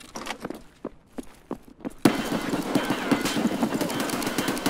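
Rapid gunfire bursts in Escape From Tarkov, a few sparse shots at first, then a sudden loud, sustained barrage of overlapping automatic fire dominating the rest.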